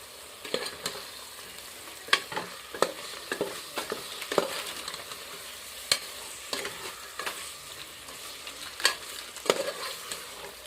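Mutton curry stirred and mixed in a frying pan outdoors in a field, a steady run of close spoon scrapes and knocks against the metal over continuous sizzling, with no voices.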